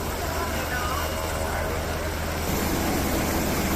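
A Coast Guard rescue helicopter hovers over the sea beside a cruise ship, its rotor wash making a steady, dense roar that swells slightly louder near the end, with no talk.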